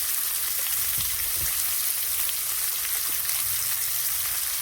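Chopped tomatoes and salt sizzle steadily in a hot pan, a close, continuous crackling hiss with a few soft pops, with no talking.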